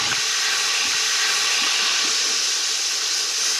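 White wine poured into a hot pan of lamb to deglaze it for a lamb and pepper ragù, a loud, sudden, broad hissing rush of steam that holds steady and close throughout, with no speech.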